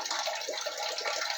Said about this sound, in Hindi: पानी आने लगा।